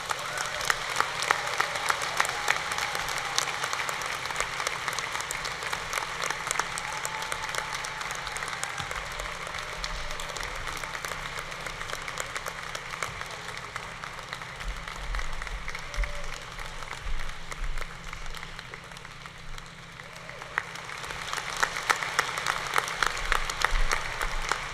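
A large audience applauds a graduating student at the University of Virginia's Class of 2023 valediction ceremony. Sustained, even clapping from a crowd fills the hall without a break, swelling slightly near the end.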